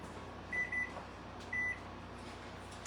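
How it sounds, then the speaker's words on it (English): Two short pairs of electronic beeps from a kitchen appliance, a quick double beep then a single longer one, over a quiet background hum. "my buzzer's going off again"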